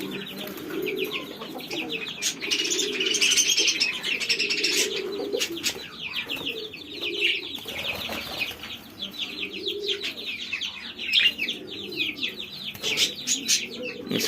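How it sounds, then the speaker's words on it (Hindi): Pigeons coo and chirp continuously inside a cage, soft throaty calls layered with brief chirps and occasional wing flutters, fairly close and without speech. "ये एक केज है, इसमें पिजन्स रखे हुए हैं मैंने।"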